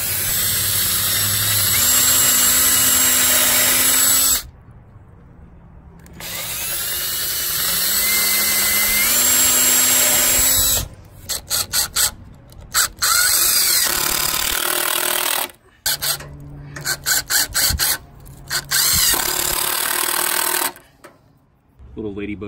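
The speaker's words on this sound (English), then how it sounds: "the impact driver is to give it a little bit more force when I'm going through something this deep" An impact driver bores deep into wood while building a small bridge. Loud whining bursts rise and fall in pitch, with several sustained runs broken by short pauses and quick stop-start pulses.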